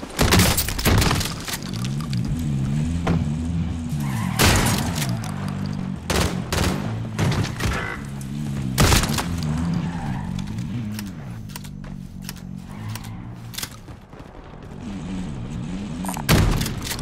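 Call of Duty Warzone on Rebirth Island at night: a vehicle engine drones and skids amid sharp crashes, shattering and gunfire bursts, loud and busy throughout with no clear talk.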